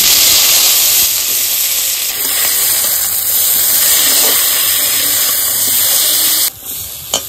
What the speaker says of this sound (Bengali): এইবার আমি একটু ঢেঁড়সটা হালকা ভেজে নেব।